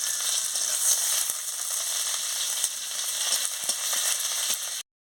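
Chopped onion and green chilli sizzle in hot oil in a home kitchen pan, a steady, dense frying hiss with occasional soft stirring knocks, close and continuous, then cutting off at the end.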